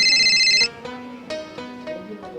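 A phone rings with a bright electronic ringtone to announce a call from a daughter, a steady melodic tone cutting off after about half a second, followed by a few faint tones and soft sounds.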